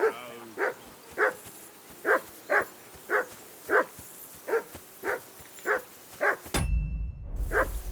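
A dog in the medieval video game Kingdom Come: Deliverance II barks in a steady rhythm, about a dozen evenly spaced woofs at moderate distance. A burst of rumbling noise follows at the end.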